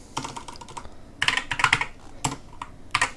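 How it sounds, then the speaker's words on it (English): Typing on a computer keyboard, close by: quick clusters of light plastic key clicks with short pauses between bursts, moderately quiet and with no talking. "I'm going to actually type this out"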